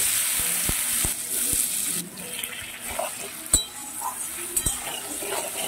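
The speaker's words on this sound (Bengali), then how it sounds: "সমস্ত এঁচড়গুলো খুব ভালো করে ভেজে নেব।" Jackfruit pieces frying in a wok of hot oil with a spoonful of ghee, a steady broadband sizzle with several sharp clinks of a utensil against the pan, no talking.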